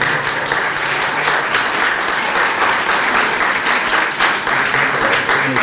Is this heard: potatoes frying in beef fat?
no